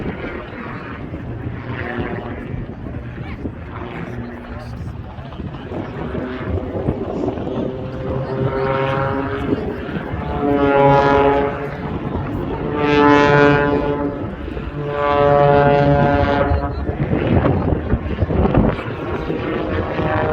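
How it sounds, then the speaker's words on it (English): Aerobatic propeller plane making a pass at a 2023 Barossa airshow, a steady droning engine whose pitch rises and falls as it maneuvers, heard from a distance with a commentator talking over it. "Looks like Chris is possibly doing his last pass there"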